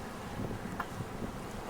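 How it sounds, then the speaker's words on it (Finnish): Strong wind gusting over a sailboat in the Caribbean, a steady rushing roar buffeting the microphone throughout, with low rumbling and faint creaks. "tuulee aika paljon."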